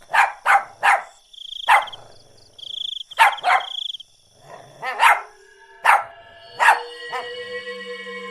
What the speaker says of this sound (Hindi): वो उसकी तरफ देखकर भौंकने लगता है।